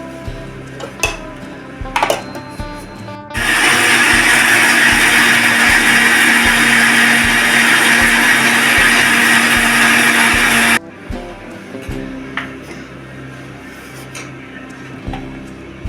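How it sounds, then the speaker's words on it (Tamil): A mixer grinder whirs loudly for several seconds grinding coconut with water into paste, a harsh steady grinding roar, framed by quieter kitchen clinks and handling before and after. "இதில் அரைப்படுறதுக்காக தண்ணி ஊற்றி பேஸ்ட்டாக அரைச்சி எடுத்து வந்துடலாம்"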